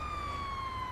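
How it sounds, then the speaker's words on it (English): Police car siren in the video game GTA 5, a steady wailing tone heard faintly in the distance for about a second, with no voices. "I heard police sirens."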